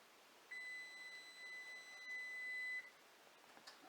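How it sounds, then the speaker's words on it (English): An oven timer gives a single steady electronic beep lasting about two seconds, clear but fairly quiet against a hushed kitchen. "the timer should go off"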